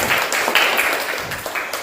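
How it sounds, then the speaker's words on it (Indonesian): Brief round of classroom applause for a student who answered correctly, a dense patter of many hands clapping close by and steady for under two seconds, with no talk over it. "Kasih tepuk tangan dulu untuk Ana ya"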